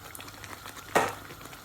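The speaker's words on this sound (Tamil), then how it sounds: "5-10 நிமிஷம் நல்லா கொதிக்கட்டுமா" Spinach and paneer curry bubbling in a pan, a soft continuous simmer with light popping, interrupted by one brief louder clatter of a utensil against the pan near the middle.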